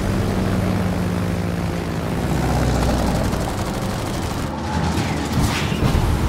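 Missile-carrying planes fly by in the World of Warships video game, a steady, loud droning engine roar that holds for several seconds, with a brighter whooshing swell near the end and no talking.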